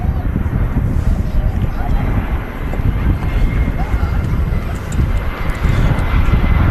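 Jet engines of an EasyJet airliner at Manchester Airport roar steadily and loudly across the whole stretch, with wind buffeting the microphone and people talking over the noise.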